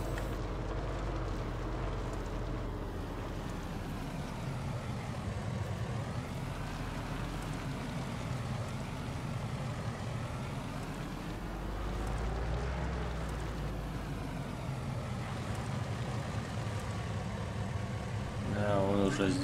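Vehicle in Farming Simulator 19 at dusk, a continuous engine drone rising and falling as it drives, steady and moderately loud, with someone talking over it.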